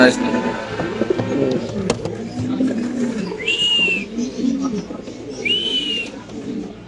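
Pigeons in a home loft where pet birds are sold coo in low, steady murmurs beneath close conversation, with two brief high whistle-like calls cutting through midway.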